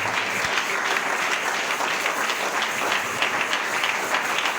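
Worship service congregation applauding steadily in a hall, dense continuous clapping with a few cheers mixed in, loud and sustained throughout with no pause.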